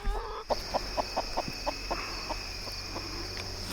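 A Cornish Cross rooster gives a rapid series of evenly spaced clucks, close by, against a steady outdoor background hum.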